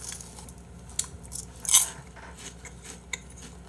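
Squid chip snacks bitten and crunched up close, a few sharp crisp crackles spread over several seconds with one louder crunch near the middle, otherwise quiet with no talking.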